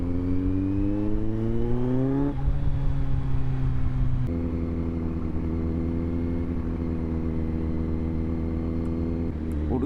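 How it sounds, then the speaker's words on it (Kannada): A modified Kawasaki Z900 motorcycle with an aftermarket exhaust revs up and settles, its deep engine note climbing in pitch, dropping back, then rising again, loud and close and heard alone. "ಎಕ್ಸಾಸ್ಟ್ ಸೌಂಡ್ ಒಂದು ಸತಿ ಕೇಳಿಸ್ಕೊಂಬಿಡಿ ಹೆಂಗಿದೆ ಅಂತ"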